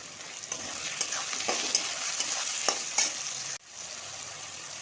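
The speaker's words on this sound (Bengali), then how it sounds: "লম্বা লম্বা সরু সরু করে কেটে রাখা আলুগুলো দিয়ে এবার ভালো করে ভাজতে হবে।" Sliced potatoes and onions fry in a pan with a steady, close sizzle. Soft stirring scrapes come through at intervals, and the sizzle drops briefly near the end before picking back up.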